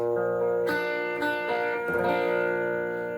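A guitar riff from a song, played alone as a lesson demonstration: sustained chords with a few strummed attacks across strings five through two, ringing out clearly with no voice over it.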